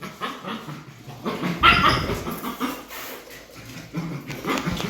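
A pet dog at a village home barks and whines excitedly in short, uneven bursts, close and fairly loud, with no clear talking over it.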